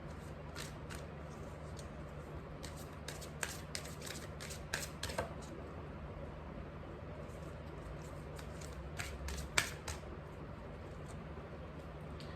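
Tarot cards are shuffled and drawn by hand in several quick, rustling flurries of soft riffling clicks with quiet gaps between them, close-up and faint against a low steady background hum.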